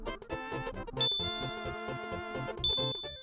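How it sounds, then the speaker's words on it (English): A synthesized bell tone made in music software rings out as a quick run of bright, close metallic dings, with two louder sustained strikes standing out among rapid notes. "how would I make a bell noise? I guess technically this, right?"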